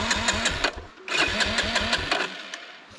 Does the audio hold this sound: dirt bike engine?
yes